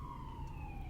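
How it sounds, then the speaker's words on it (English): A distant wailing siren glides slowly downward in pitch over a low rumbling background, faint and steady without any talk. "cue siren"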